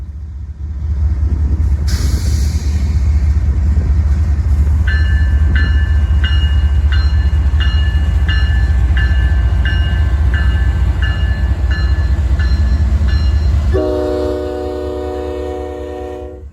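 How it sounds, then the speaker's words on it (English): A northbound Union Pacific manifest freight led by a GE AC4400 locomotive rumbles past loudly with a deep, continuous roar, and its horn sounds in repeated blasts before a lower, sustained horn note near the end. "A northbound manifest led by a Jivo and AC 4400 with the few refrigerator cars up front"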